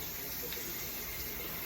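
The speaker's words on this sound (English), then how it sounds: "So we're going to run a little water in the pot here." Tap water runs steadily into a cooking pot in a kitchen, a faint, even hiss of flowing water without break.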